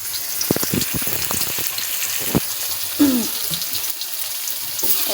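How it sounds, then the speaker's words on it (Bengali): Jute leaves fry in a large wok with a steady, close sizzle that runs throughout, broken by a few short clinks and stirring knocks. "আবার আমি কড়াই তুলে দিয়েছি, পাট শাক ভাজি করবো"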